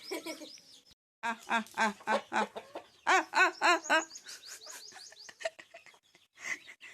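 A hen clucks among her chicks, with a close series of short, rhythmic clucks and high chirps in bursts broken by brief pauses, plus some faint background voices.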